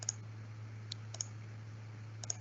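A few faint, sharp computer mouse clicks, spaced irregularly over a steady low electrical hum, with no talking.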